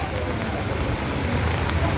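Rain falls steadily on an outdoor cattle market in Padre Garcia, Batangas, making an even, dense hiss that holds unbroken throughout without distinct drops or voices.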